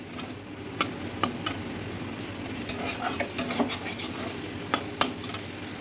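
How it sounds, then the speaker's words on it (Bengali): Dhenki fern greens frying in a pan with black cumin, dried chili and ginger, a steady sizzle under repeated sharp clicks of a spatula stirring against the pan, close and clear, with no talk. "এই দেখো ঢেকির শাক ভাজা হচ্ছে নিরামিষ ঢেকির শাক কালো জিরা শুকনা লঙ্কা আর আদা"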